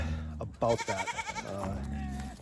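Young lambs bleat in a pen, a few wavering cries close by, partly overlapping a voice that runs through the clip.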